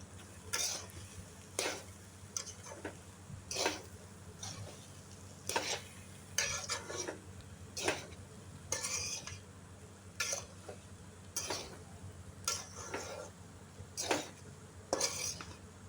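Carrot rice stirred in a pot with a utensil, giving repeated scraping clinks and knocks against the metal roughly every second over a soft cooking hiss, close by and with no voices.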